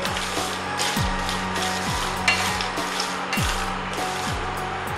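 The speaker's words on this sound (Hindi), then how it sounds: "और इसको एकदम धीमी आंच पे भूनना है हमें चलाते हुए, ताकि जो मूंगफली है आपकी इवनली पके।" Peanuts stirred and dry-roasted in a pan over low heat for jaggery peanut chikki: steady close scraping and rattling of nuts against metal with periodic sweeping strokes, over a constant low hum, no voices.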